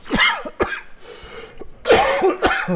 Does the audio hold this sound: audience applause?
no